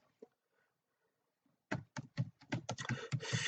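Quick bursts of keystrokes on a computer keyboard as a chart title is typed, close and fairly quiet, building into rapid irregular clicking after a near-silent pause.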